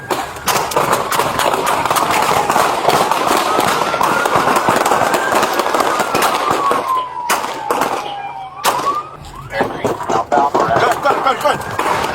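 Rapid sharp gunshot cracks fired at LAPD officers during a police chase, loud and close, with a wailing siren sweeping underneath and radio-style voices mixed in.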